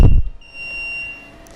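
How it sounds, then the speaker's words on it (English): After a brief thump, a portable HIFU device gives a sustained high-pitched electronic beep with its cartridge removed, steady and fairly loud, with no talking. "You're going to hear the beeping. Get ready for it. The annoying beeping."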